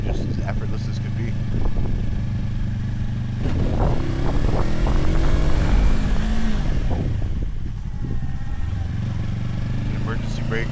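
A 2025 Yamaha R3 300cc motorcycle accelerates in second gear on the road, the engine pulling with rising and falling tone under wind rush while a rider talks over it.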